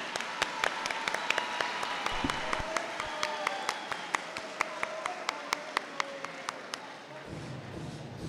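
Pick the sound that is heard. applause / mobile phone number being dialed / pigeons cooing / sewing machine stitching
applause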